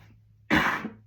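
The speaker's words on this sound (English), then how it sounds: "I'm wanting to cough." A single sharp cough bursts out from someone getting over a cold, preceded by a faint low hum in a quiet room, close and abrupt with a brief rough tail.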